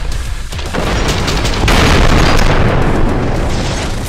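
Contact grenades explode in the video game Trepang2: heavy booming blasts, one bursting in around the half-second mark and another around a second later, leaving a loud, rumbling, sustained wash of debris and noise.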